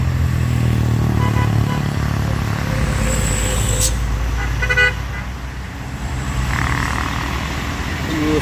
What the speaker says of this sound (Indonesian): Ada truk raksasa